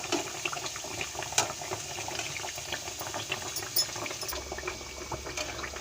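Badusha sweets fry in hot oil, giving a steady bubbling sizzle with small crackles and pops throughout, heard close and alone.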